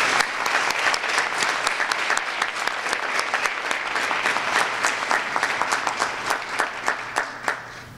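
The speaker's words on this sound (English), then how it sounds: "Let's have a round of applause for our 8th grade inductees." Applause for eighth-grade inductees at a 2023 National Junior Honor Society induction ceremony in a middle school, a sustained round of clapping from a seated audience, with individual sharp claps standing out, fading slightly toward the end.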